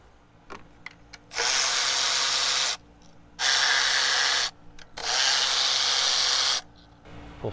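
A power tool removes the 10mm bolts holding the ignition coils on a Toyota 2.4L 2AZ-FE engine, running in three loud, steady bursts of a few seconds each with short pauses between them.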